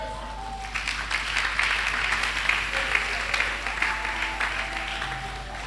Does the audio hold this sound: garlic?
no